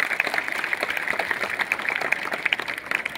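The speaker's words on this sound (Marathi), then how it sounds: "जोरदार टाळ्या द्या स्वतःसाठी" An audience at an education society's anniversary celebration claps rapidly and vigorously, a brisk, sustained patter of many hands heard from nearby without speech.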